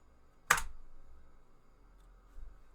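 A single sharp keystroke clicks on a computer keyboard while a terminal command is entered, followed by a faint second tap in a quiet room.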